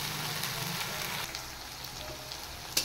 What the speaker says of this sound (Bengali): এবার পেঁয়াজটা একটু, মশলাটা একটু ভালো করে ফ্রাই করে নেব